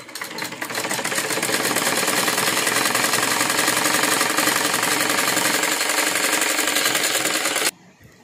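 A sewing machine stitches a long seam along a fabric washing machine cover, running as one loud, steady, rapid whir and clatter for several seconds before stopping abruptly.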